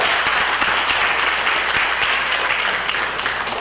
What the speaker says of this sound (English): Let's give Gianna a big round of applause.